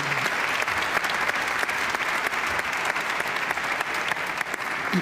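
Audience applause for a guest at a Quran recitation gathering, dense and sustained clapping from a large crowd at an even, loud level for several seconds.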